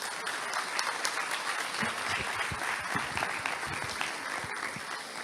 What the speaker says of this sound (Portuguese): Vamos receber o professor Washington com a linda salva de palmas.